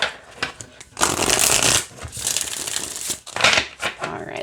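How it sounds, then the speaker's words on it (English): A deck of oracle cards from the Light Code Luminary Oracle set is shuffled by hand, giving a close, loud papery riffle of flutters and bursts in quick succession. "let's see how they shuffle this way"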